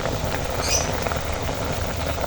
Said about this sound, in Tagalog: Ayan, nakulo na po.